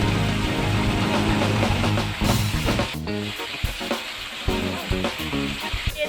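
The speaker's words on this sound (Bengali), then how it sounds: "জিরা বাটা আর শুকনো লঙ্কা বাটা দিয়ে দিব। অল্প জল দিয়ে দেব।" Cumin paste and dried chilli paste sizzle in a pan with a splash of water for a Bengali rohu fish curry, a loud steady frying hiss with stirring scrapes and a brief flare near the middle.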